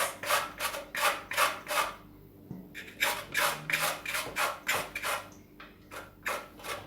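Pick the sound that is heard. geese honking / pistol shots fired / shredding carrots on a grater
shredding carrots on a grater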